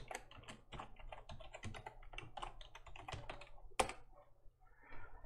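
Rapid typing on a computer keyboard while entering a username and password, a steady stream of soft clicking keystrokes with one louder key press near the end, no voices.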